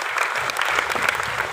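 An audience at a business training program claps together in a dense, continuous burst of applause, loud and close, with no speech over it.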